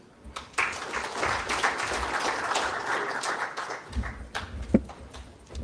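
Audience applause in a conference hall, a steady wash of clapping lasting several seconds at moderate distance, with a few louder claps standing out near the end and no speech over it.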